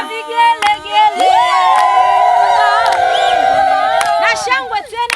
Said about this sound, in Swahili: Vijana vigelegele